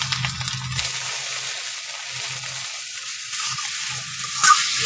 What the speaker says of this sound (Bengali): জল দিয়ে ভালো মশলাটা একটু কষে নিচ্ছি